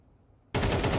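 Gunfire in a Counter-Strike 2 match bursts in abruptly after near silence, a loud, rapid, continuous stream of shots that stays intense to the end.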